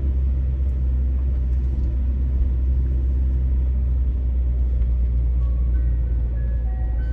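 A car moving slowly through a sunny residential block in the Feltonville neighborhood of Philadelphia, heard as a steady, loud low engine and road rumble from inside, with faint ice cream truck chime tones drifting in near the end.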